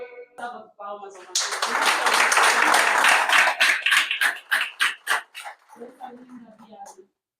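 Audience applause breaks out for violinist Mateus at a peace embassy inauguration ceremony in Angola, starting with a few voices before a loud burst of clapping that fades into scattered claps and then a speaking voice.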